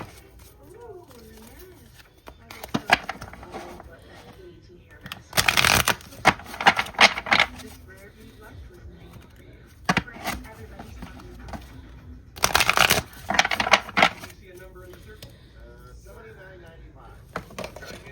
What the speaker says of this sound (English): I'm gonna shuffle it again